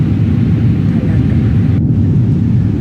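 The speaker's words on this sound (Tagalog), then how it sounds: "Sa Dubai pa pa, paakyat pa ang aeroplano." Airliner cabin during the climb out of Dubai, a steady, loud broadband jet engine roar filling the space with no break.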